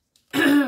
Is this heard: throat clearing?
yes